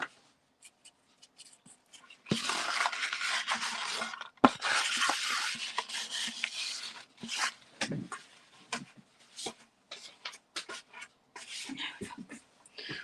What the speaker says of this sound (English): I'm just going to wipe it with some kitchen roll.